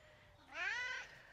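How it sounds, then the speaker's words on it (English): A cat gives a single rising-and-falling meow, fairly faint against quiet background noise and lasting about half a second. "Move, you fat cat."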